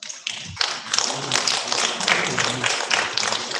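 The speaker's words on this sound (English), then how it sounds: "Please a round of applause for her." Dense, steady applause from an audience at a youth internet governance forum in Nigeria, many hands clapping close by for several seconds with no talk over it.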